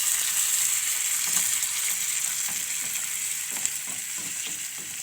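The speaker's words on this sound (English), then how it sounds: "Put water in the frying pan." Water added to a frying pan of meatballs sizzles and hisses steadily up close, a continuous bright frying crackle with a few soft stirring scrapes and no voices.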